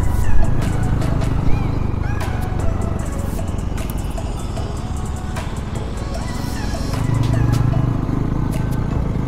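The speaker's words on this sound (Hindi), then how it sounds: "बस बाइक उठाए और निकल लिए" Motorcycle riding on a road in North East India toward Nagaland, a continuous loud engine drone with wind rumble and road noise, swelling slightly near the end, with no talk.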